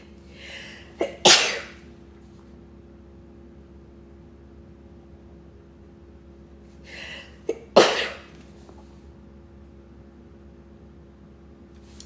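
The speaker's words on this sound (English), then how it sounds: "Why am I sneezing so much?" Two loud, close sneezes from a woman, each with a sharp breathy intake before it, separated by several seconds of near-quiet room hum.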